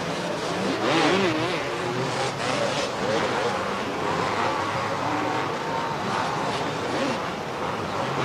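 Racing motorcycles roar along a beach course at a 1989 race, engine drone rising and falling in the distance beneath continuous commentary from an announcer.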